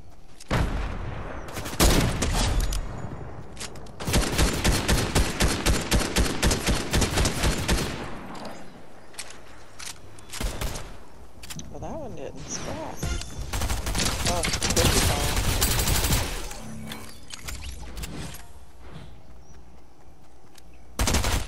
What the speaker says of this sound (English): Somebody's shooting from somewhere.